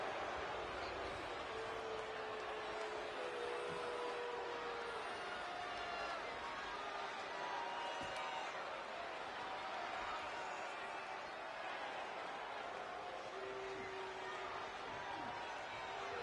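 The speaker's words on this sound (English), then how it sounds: "And the crowd will let you know exactly who it is." A wrestling crowd at a WAS Graduation Day event roars steadily as the current champion makes his ring entrance, a dense, continuous wash of cheering and noise with a commentator talking over it.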